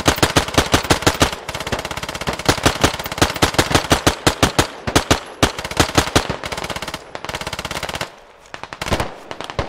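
Rapid automatic bursts from a PPSh submachine gun in the military shooter Squad, loud and close, firing in repeated strings of sharp shots with brief pauses between bursts.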